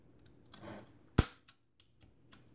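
A short mechanical winding rasp as a vintage Beier Precisa camera with Compur shutter is cocked, then a sharp, crisp shutter click followed by a few faint, quick ticks.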